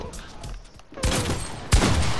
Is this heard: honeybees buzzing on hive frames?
no